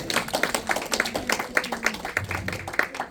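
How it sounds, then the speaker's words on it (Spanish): A church congregation claps along during a worship service, a brisk steady rhythm of many hands with a faint voice or music underneath. "¿Cuántos le dan un aplauso al Señor?"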